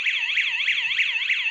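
Loud electronic warbling from a panic alarm set off by its button, pulsing in quick regular sweeps, near and unbroken, with no voices.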